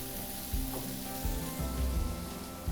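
Vegetables for a curry sear in a hot pan on the stove, a steady close sizzle with occasional soft thumps and stirring scrapes, and no one speaking.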